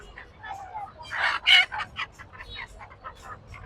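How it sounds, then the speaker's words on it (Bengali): Chickens cluck and squawk close by at a poultry market at Hasnabad hat, with a burst of louder, strained calls in the middle and softer clucking before and after, with faint talk mixed in. "আর এইগুলো আছে ডিমের মুরগি আছে"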